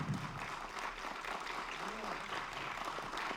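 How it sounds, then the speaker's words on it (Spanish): A small audience applauding at a forum on women and judicial reform, steady faint clapping heard from a distance in a roomy hall, even in level for a few seconds. "Un aplauso."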